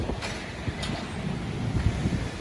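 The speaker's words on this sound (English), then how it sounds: "the rain and the winds are pushing heavy" Strong gusts of wind from a cold front storm buffet a sidewalk café area, a steady loud roar of wind noise with rumbling swells and no voices.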